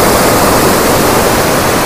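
Water rushes through opened dam gates in a loud, dense, constant roar heard up close, with no breaks or other sounds.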